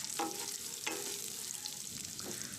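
Softened radish being stirred as it fries in a pan for chutney, with two distinct spoon scrapes over a steady, moderately loud sizzle and no voices.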